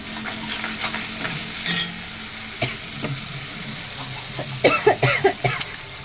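Meat sizzles in a pan with turmeric and salt for a home-style biryani, with close scraping stirs and spoon clatter over a low frying hiss and a few louder stirring bursts near the end.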